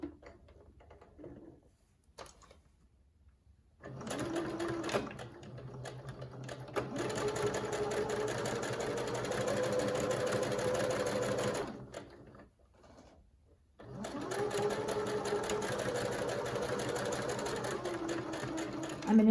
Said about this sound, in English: So the first thing we need to do is just hem around these 4 edges.